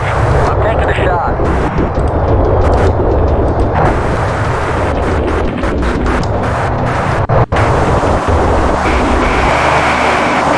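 Weapon fire and explosions from an A-10A Thunderbolt II in the flight combat game Fighters Anthology, a dense, continuous roar of engine noise and blasts with a brief dropout near the end, with a voice talking over it.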